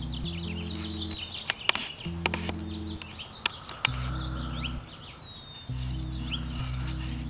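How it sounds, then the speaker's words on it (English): Birds chirp and tweet in scattered high calls over a steady low rumble that cuts in and out, with a few sharp clicks. "Hear the birds chirping."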